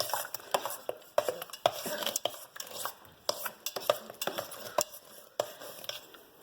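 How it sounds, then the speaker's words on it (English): A spoon folds and stirs thick cream in a bowl for strawberries and cream, making repeated soft scrapes and light clinks against the dish in an uneven rhythm, close up, with no talking. "I'm just kind of like folding it in and mixing it at the same time"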